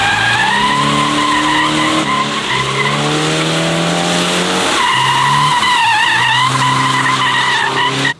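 Loud, sustained tire squeal from a Toyota GR86 drifting, with the engine whining and pitch sliding up and down throughout.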